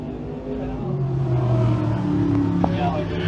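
Dirt track sportsman race cars run at full throttle down the front straightaway, engines droning loudly with rising pitch as they pass. Crowd noise or a voice sits faintly under the roar.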